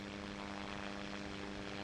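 A propeller plane engine holds a steady partial throttle, a continuous loud buzzing drone with a strong steady hum, even and unbroken throughout.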